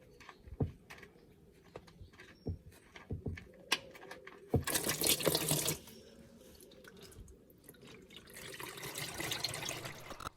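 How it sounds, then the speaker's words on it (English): Engine oil draining out of a broken Ferrari 308 during an oil change, a faint trickling liquid flow with scattered drips and clinks, swelling into a louder splashing gush midway and again near the end. "I've drained the oil"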